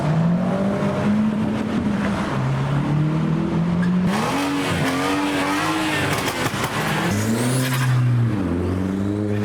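Modified cars hooning at a beauty spot, engines revving hard through rising and falling pitches, several loud passes and gear changes with a sharp surge midway, close and dominant throughout.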